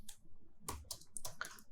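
Short bursts of keystrokes on a computer keyboard as a Linux terminal command is typed, a few quick clicks in quiet surroundings.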